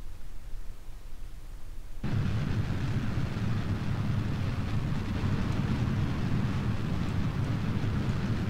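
Two rockets launching together in the Kerbal Space Program video game: a quiet lull, then a sudden loud, broad roar of engines that holds steady and rumbles on to the end.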